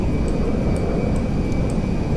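A Boeing 747 jumbo jet comes in to land in the video game GTA 5, producing a steady, loud aircraft engine roar that holds evenly throughout with no talk.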